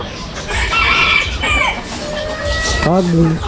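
A rooster crows amid busy outdoor ambience, with a second crow or chicken call rising near the end over faint background voices.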